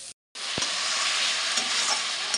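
Eggplant frying in a pan with turmeric gives a steady, loud broadband sizzle after a brief silent gap at the start, with a single sharp utensil tap early on and faint scraping throughout.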